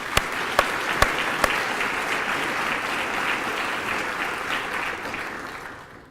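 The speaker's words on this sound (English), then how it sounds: "let's give them a round of applause as well" An audience claps through a steady round of applause at a medical school white coat ceremony, dense and sustained with a few sharp near claps early on, fading slightly at the end.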